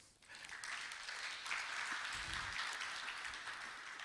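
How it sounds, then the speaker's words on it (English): A Founders Day lecture audience gives a quiet round of applause, a soft, even wash of clapping that swells slightly and carries on for several seconds, heard from a distance. "needs a round of applause"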